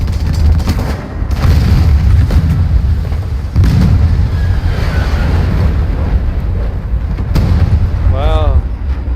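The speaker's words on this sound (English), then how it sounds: "I assume it was such a violent explosion and knocked out the enemy tank" Heavy booming blasts and rumbling in a tank combat video game, loud and sustained, with a violent explosion knocking out an enemy tank amid continuous low roar.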